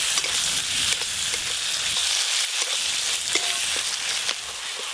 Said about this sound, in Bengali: নাড়তে নাড়তে টমেটোগুলো খুব ভালো করে গলে গেছে আর মশলাও কষানো হয়ে গেছে